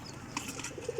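Pigeons in a bird setup give a few soft coos and brief wing flutters, faint and close together within a second.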